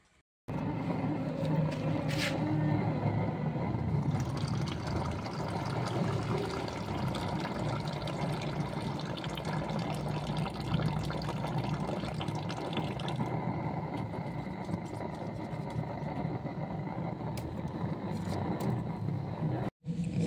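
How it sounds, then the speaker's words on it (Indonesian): Clean water poured slowly to rinse silver refined with nitric acid from scrap jewellery, a steady trickling stream that runs almost unbroken for about twenty seconds before stopping abruptly. "Dan kita akan tuangkan airnya secara perlahan-lahan, pelan-pelan. Kita siram lagi dengan air bersih."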